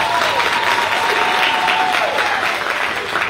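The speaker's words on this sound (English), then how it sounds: "So shall we give him a round of applause?" A charity audience at the ten-year celebration of Angels of Hope for Women breaks into steady, loud applause, a dense wash of clapping that holds throughout with a faint tonal hum underneath.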